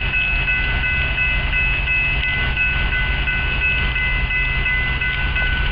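An Ohio Central locomotive switches cars at Miller Yard with a new unit: a steady, loud rail rumble with a sustained tonal hum runs unbroken throughout.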